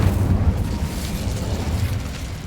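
In the video game Hogwarts Legacy, an Incendio fire spell bursts into a loud, deep whooshing boom, then a rumbling roar of flame that slowly fades over a couple of seconds.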